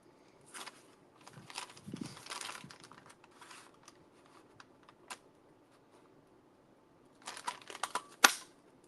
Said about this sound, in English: I'm definitely having fun punching this paper bag up